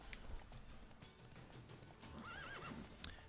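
A horse in The Witcher 3 game gives a wavering whinny over faint hoof clip-clops and low ambient game noise, heard quietly with no one talking.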